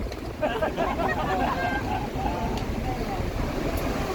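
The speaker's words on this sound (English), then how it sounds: "this is like a maybe 2 to 4 foot swell, or not even" Ocean surf and a two-to-four-foot swell wash around a boat at sea, a steady roar of water mixed with wind buffeting the microphone, with voices faintly underneath.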